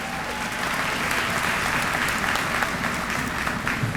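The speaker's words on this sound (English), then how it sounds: "Please give him a round of applause." Audience applause at a university winter commencement ceremony, a steady, dense clapping from a large crowd filling a hall, loud and sustained for several seconds without speech.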